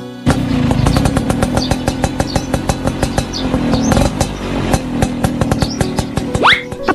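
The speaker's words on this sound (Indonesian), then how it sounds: "Kalau bukan karena lu kak, kagak bakal mau gua naik motor butut begini." An old, beat-up motorbike rides along with a loud, close engine putting out a rapid clattering pulse and uneven rattles, the revs rising briefly near the end.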